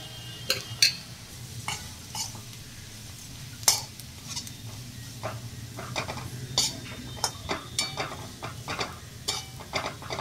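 Dried shrimp (sukat) sautéing in spiced oil in a pan gives a low, steady sizzle, broken by sharp clinks and scrapes of a spoon stirring against the metal at irregular intervals.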